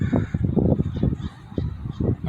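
Birds call in Lone Fir Cemetery in Portland, a string of honking, goose-like calls at moderate distance with wind and faint traffic behind them.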